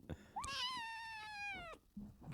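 A 10-week-old kitten gives one drawn-out, clear meow that rises and then slowly falls, close and moderately loud, with brief soft noises around it and no talking.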